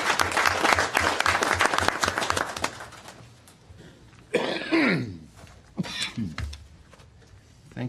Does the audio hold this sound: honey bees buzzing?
no